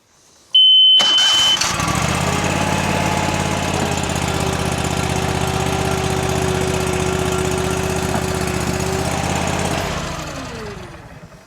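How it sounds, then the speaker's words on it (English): A Boxer 320 mini skid steer starts with a brief beep and then an abrupt engine burst, followed by steady loud running under load as a single hydraulic cylinder lifts the arms, ending with a falling whine as the engine settles. "this has a single hydraulic cylinder to lift the arms."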